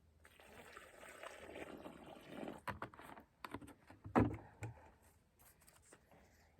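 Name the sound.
water being poured into dug planting hole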